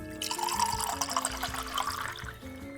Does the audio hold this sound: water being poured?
yes